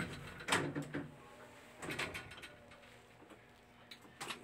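An elevator door in a building in Madina closes with a few clattering, rattling mechanical clunks against background hum, with no speech.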